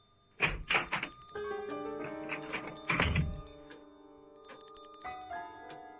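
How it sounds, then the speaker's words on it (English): A small hand bell rings again and again in bright, sharp bursts within a dark audio drama, with a few soft thunks between the rings and no speech. "As Susan's little bell rings and rings"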